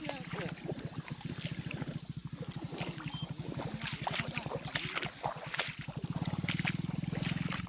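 A boat churns steadily through floodwater in a flooded village, with a pulsing low motor-like throb and water sloshing throughout, while a voice talks over it.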